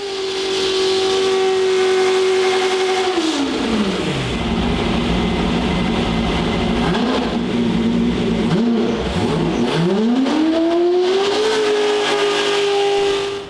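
A manual C8 Corvette drift car screams on the dyno toward 9,000 RPM, holding a high steady rev, dropping sharply, then climbing again in loud sweeping pulls with no talk.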